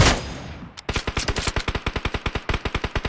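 Rapid automatic gunfire from PUBG Mobile: a brief opening burst, a short pause, then a steady, loud stream of evenly spaced shots for over two seconds, with no speech.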